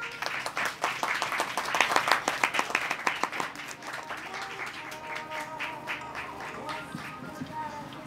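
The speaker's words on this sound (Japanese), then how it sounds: "田尻美奈さんにもう一度大きな拍手お願いします" Audience applauding at an outdoor winter festival stage show at a Tama Home store in Nonoichi, Ishikawa: a burst of dense clapping builds and peaks in the first few seconds, then thins into scattered claps over crowd murmur.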